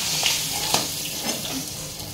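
Hilsa fish pieces fry in hot oil with a steady, loud sizzle and crackle, popping spatters of oil bursting through at intervals over about two seconds, with no talk.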